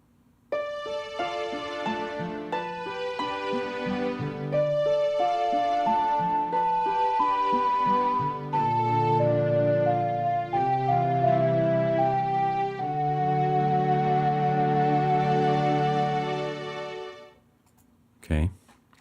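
A melody from the Zelda: Ocarina of Time video game, a slow, gentle tune of sustained notes over a soft low drone, playing steadily alone for about seventeen seconds before fading out abruptly.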